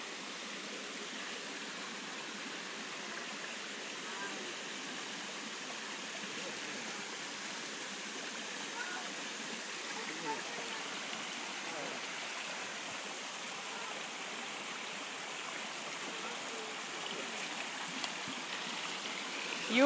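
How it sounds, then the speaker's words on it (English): River water flowing during a jungle trek: a steady, soft rushing wash of water that holds constant throughout, with no clear voices. "We're going to cross the river?"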